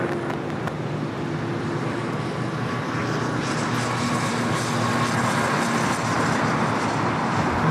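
An airliner departing LAX, a loud, continuous broadband jet roar that holds steady and swells slightly toward the end, with faint road traffic in the background.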